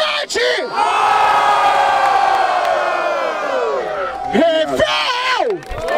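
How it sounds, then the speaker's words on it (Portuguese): A crowd at a Brazilian freestyle rap battle, the Batalha da Aldeia, roars and cheers loudly and continuously, with whoops and yells rising and falling, while a host's voice shouts over it. "Barulho pra quem gostou das rimas de Kant!"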